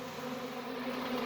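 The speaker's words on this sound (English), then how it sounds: "That's the first swarm of the season." A honey bee swarm leaving an old hive hums with a steady, dense buzz, close and even, with no voices over it.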